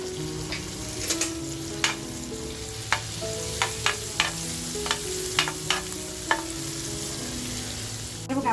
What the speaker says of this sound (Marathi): त्याचबरोबर आपण लगेचच बटरमध्ये लसूण टाकणार आहोत